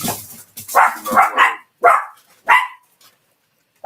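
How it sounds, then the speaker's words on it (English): Several dogs bark in short sharp bursts, about five loud barks spaced irregularly with brief pauses between, close by and with no talking over them. "they hear another dog out there"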